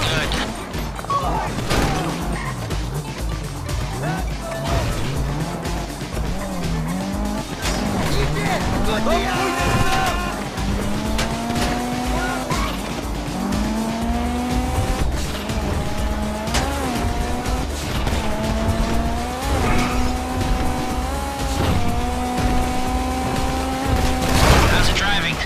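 A car in GTA V drives hard with its engine revving and tires squealing repeatedly, plus crash and impact sounds, as game dialogue plays over the action.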